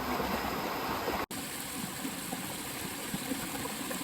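A clear river flows steadily in the open outdoors, a soft continuous wash of water with a momentary dropout near the start.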